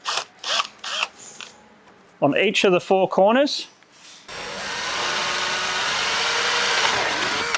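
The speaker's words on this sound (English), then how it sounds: "Grab a six mil drill bit, line it up with that little pinhole." Someone speaks briefly, then a steady, loud drill whine runs continuously for several seconds as a 6 mm bit bores through plastic.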